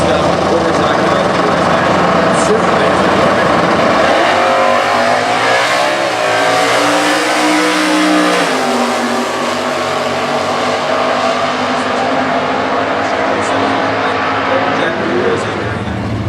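A Stock Eliminator drag racing car, loud engine roaring on the drag strip at the US Nationals, its revving pitch rising and falling steadily under an announcer's commentary.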